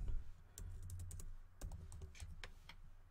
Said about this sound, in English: I'll start typing names